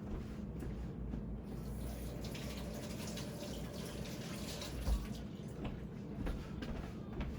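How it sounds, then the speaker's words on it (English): Tap water runs steadily in a kitchen during preparation of oven-baked oxtail, a continuous close rushing wash that lasts the whole time with no talking. "let me wash my hands really quick"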